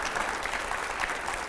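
Sustained clapping from a studio audience at a Hindi TV political interview, even and continuous for a moment with no talk on top.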